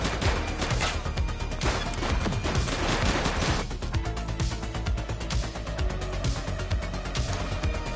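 Sustained heavy gunfire in a police video game, with rapid machine-gun bursts and single shots layered over one another, loud and unbroken throughout with no voices.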